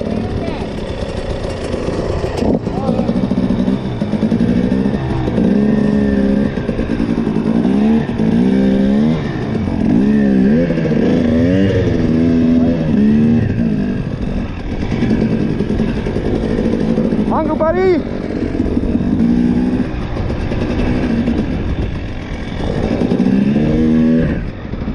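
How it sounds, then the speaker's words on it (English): Two motorcycles approach and pass on the road, their engines rising and falling against a constant loud drone of the vehicle in motion, with people talking over it. "Two bikes coming towards us."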